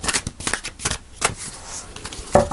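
Tarot card deck being shuffled by hand, a run of quick riffling flutters and soft slaps close to the mic, with no talk over it.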